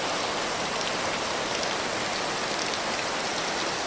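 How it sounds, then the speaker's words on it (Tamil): Heavy rain falling steadily beside a house, with floodwater running past like a river, a dense, loud and unbroken hiss of drops and flowing water. "இன்னைக்கு எங்கள் ஊரில் இந்த மழை"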